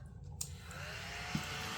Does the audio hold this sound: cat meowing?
no